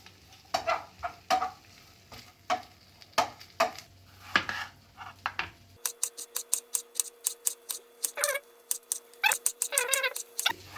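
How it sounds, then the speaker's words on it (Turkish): Knife chops on a cutting board, first spaced and uneven, then a quick steady run of sharp taps, no talking. "malzemelerin doğrama işlemine geçeyim ben de."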